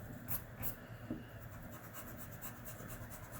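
A pencil eraser rubbing out a phrasing mark on paper: quiet, close, with repeated back-and-forth scrubbing strokes in short bursts.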